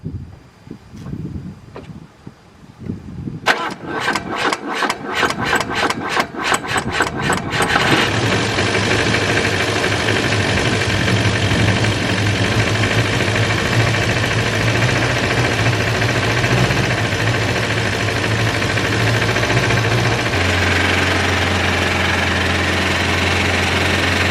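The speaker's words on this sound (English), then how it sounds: "Probably an exhaust leak." A Volvo 144S engine with an exhaust leak turns over with rapid knocking pulses, catches, then settles into a steady, loud idle with a rough, hissing exhaust tone.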